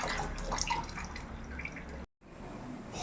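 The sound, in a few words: pouring water onto rice in a cooking pot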